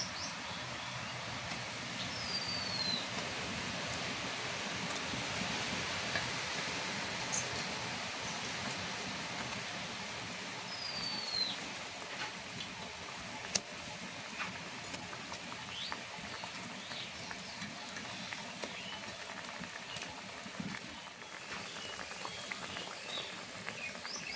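Soft, continuous bubbling of a pabda fish curry gravy made with mustard, poppy seed, green chilli and a little sugar, simmering quietly in a pan with occasional small pops.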